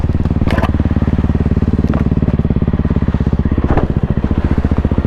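A 2024 Kawasaki KLX300R four-stroke dirt bike engine revs hard and loud close by under a twisted throttle while riding cross-country, with a steady rapid pulsing beat and occasional clatters and thumps from the terrain.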